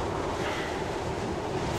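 Strong wind in the horror video game Kholat blows as a steady, dense roar with a broad hiss, loud and unbroken throughout, with no other sounds over it.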